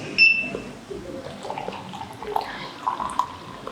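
Hot water poured onto ground coffee in an Aeropress, a soft, close, continuous trickle and splash lasting a few seconds with faint clinks.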